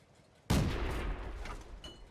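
A tank destroyer fires a shot in World of Tanks: a single sharp, loud cannon blast that hits suddenly and then rolls into a long, heavy rumbling decay.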